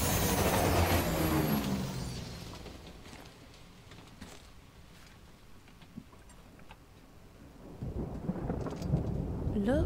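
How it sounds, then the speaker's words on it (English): Heavy rain pours in the video game Death Stranding while deep thunder rolls loudly at the start, fades into a steady downpour, then rumbles again toward the end. "I'm gonna assume that's acid rain."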